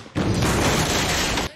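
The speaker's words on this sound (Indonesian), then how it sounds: "Sehingga terjadi ledakan" A booby-trapped bomb hidden in a basket detonates in a single loud, close blast that bursts in suddenly, roars with dense rumbling noise for over a second, then cuts off.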